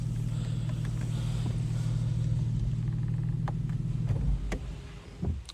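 A BMW E60 engine idles with a steady low rumble close by, then is switched off around the fourth second, the hum cutting out and leaving a few clicks and a brief final thump.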